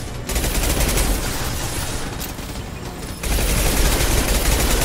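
Sustained automatic gunfire in Mass Effect 2 combat, a dense continuous rattle of shots that dips briefly and then surges louder, with no voices over it.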